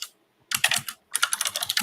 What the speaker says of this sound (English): if you're typing, mute yourself.